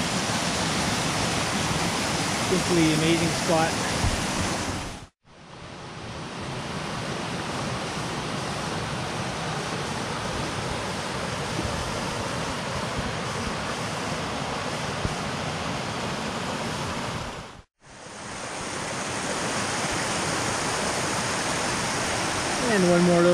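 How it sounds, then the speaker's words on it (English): Small mountain waterfall near Cueva del Esplendor in Jardín, Colombia, a steady broadband rush of falling water that stays loud and constant, briefly cut twice, with someone speaking over it early on. "this little waterfall is up from Cueva del Esplendor"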